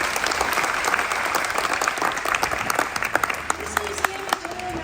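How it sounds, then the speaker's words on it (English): Guests at a retirement reception in an armament museum break into lively applause, many hands clapping with crisp individual claps standing out, as a voice begins speaking over the tail end. "So please give a round of applause, Mr. Fitzpatrick."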